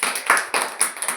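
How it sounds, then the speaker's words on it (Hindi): Children clapping their hands loudly in a classroom activity, about seven sharp, close claps in a quick uneven rhythm. "जोर से ताली बजाओ।"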